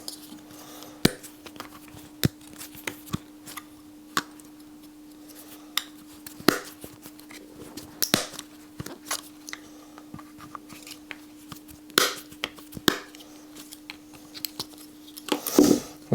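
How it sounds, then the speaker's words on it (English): Cutters snip off dry liner wings, giving a series of sharp, irregular clicks and snaps spread across a quiet room with a steady low hum underneath. "you've got your dry liner wings here, so you cut those off. So we can use the cutters."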